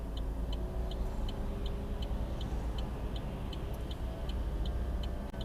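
Steady stream of oncoming cars passing a junction at traffic lights, a continuous broadband road rumble with a regular faint ticking, likely an indicator, running throughout.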